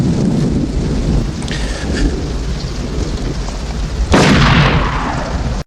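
Thunderstorm with steady heavy rain in a Western film, a constant rushing hiss broken by a loud, close thunder crack near the end.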